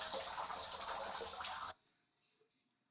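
Flowing water from an AR prototype's sound effect splashes steadily and fairly loudly, then cuts off abruptly, leaving faint trickling and drips.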